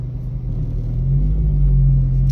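A Volkswagen Polo 1.2 TSI with muffler and resonator deleted cruises at low speed, a deep, steady exhaust drone and rumble holding loud and close, swelling slightly as it goes.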